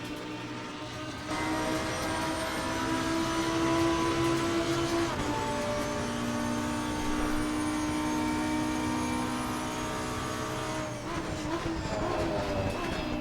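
A Lamborghini Huracan EVO GT3 in Assetto Corsa Competizione lapping Imola, a steady high engine drone with gear shifts audible as pitch jumps, heard from inside the car and without talk.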